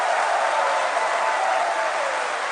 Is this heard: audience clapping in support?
yes